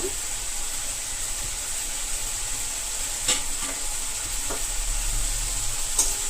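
Steady sizzling of half a spoon of cumin seeds frying in hot oil, a continuous crackling hiss with a few brief scrapes of stirring, close by and without talk.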